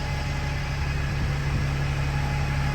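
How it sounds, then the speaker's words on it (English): Buses idling at a depot while they wait for the fuel bay and wash, a steady low engine rumble and hum that stays even throughout with no talking. "A couple of buses there just waiting to go through the fuel bay and then through the wash."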